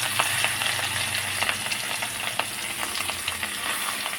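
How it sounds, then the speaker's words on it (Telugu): Pieces of fish dropped into hot oil for a Telangana-style fish fry sizzle and crackle steadily at close range, a dense, continuous hiss dotted with small pops, with no talking. "చూడండి ఆయిల్ వేడెక్కింది. ఇప్పుడు మనం పీసెస్ వేసుకుందాము."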